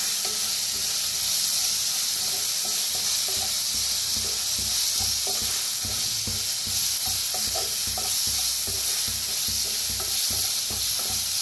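Ground spice paste with curry leaves roasting in a pan for a kadhi vada dish, giving a continuous loud sizzle under frequent quick stirring scrapes, with no talking.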